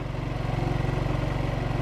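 A Cummins Onan QG2500i HGLAA inverter generator fitted with an Onan Cummins exhaust resonator runs steadily at a campground, giving a close, even, rapidly pulsing low engine chug with no voices.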